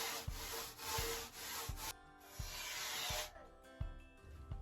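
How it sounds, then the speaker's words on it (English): A handsaw cuts a rough outline through an old foam surfboard blank, giving rhythmic broadband rasping strokes with a soft thump at the start of each pull, close and alone. "I'm now sawing a rough outline and drilling out the old fin plugs."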